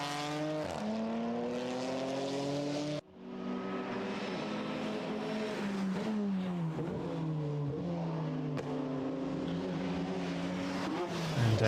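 A race car lapping Circuit Zolder in Supercar Challenge qualifying, loud engine howling through upshifts and downshifts with a sharp lift-off cut, constant and close as from onboard, no voices.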